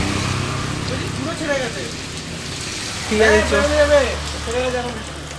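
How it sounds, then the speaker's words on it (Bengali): Steady rain patters on surfaces during a roadside break on a bike tour in Gangani, West Bengal, a broad hiss continuing beneath several people talking nearby. "আর বৃষ্টিও থামতে শুরু হয়েছে"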